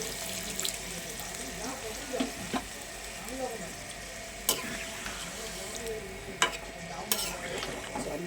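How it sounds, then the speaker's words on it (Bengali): Water pours into a pot of nearly finished braised meat on the stove. A sizzling, bubbling wash comes with a few sharp clinks of a spoon or pot, close by and moderately loud. "এখন আমি জল দিয়ে দেবো।"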